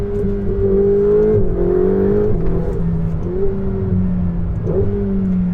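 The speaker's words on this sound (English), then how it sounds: "Let's listen to that V8 for a second." A Ferrari 488 GTB V8 engine revs loud and close from inside the cabin, its pitch rising and falling through several sweeps over a steady low rumble.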